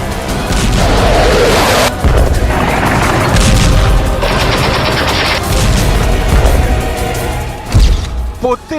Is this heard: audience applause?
no